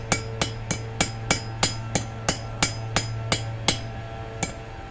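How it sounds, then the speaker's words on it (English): Hammer blows on the foot of a forged steel hold fast, about a dozen sharp ringing strikes at a steady, even pace, close and loud over a low steady hum. "we're going to hammer that down like this"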